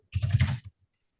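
Quick burst of typing on a computer keyboard, a rapid run of close, crisp key clicks lasting about half a second, followed by one last tap and then silence.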